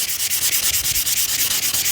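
Sandpaper of 600 grit rubs back and forth over a sun-damaged plastic mirror cap from a 2015 Toyota, a loud, close, rhythmic scratchy hiss in quick even strokes with no talking.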